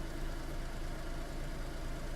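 An offroad car engine idles steadily in the video game DayZ, a continuous, even, low mechanical drone with a rough knocking texture that holds through the whole clip.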